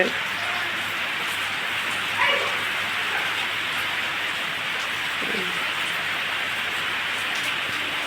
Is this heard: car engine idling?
no